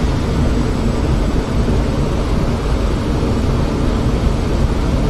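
A Boeing 747 airliner departing London Heathrow makes a continuous broad roar that holds steady and loud with no voices over it.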